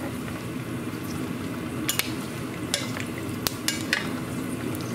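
Pork belly cracklins fry in hot oil at about 400 degrees, sizzling and crackling steadily, with a handful of sharp pops bursting through at irregular moments, close by and fairly loud.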